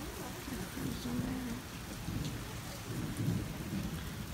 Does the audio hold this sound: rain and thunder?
yes